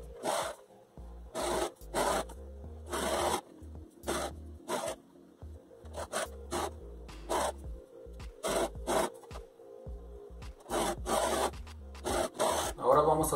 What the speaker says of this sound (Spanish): vamos a coser con la overlock